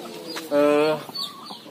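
A rooster lets out a short, loud cluck-like call near the microphone among broiler hens and a red Arab rooster kept at a home poultry operation, followed by softer chicken chatter.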